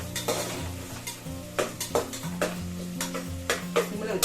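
Onions, garlic and green chilli sautéing in a pan, a soft sizzle broken by regular scraping stirs and spoon clinks against the metal, close and with no talking.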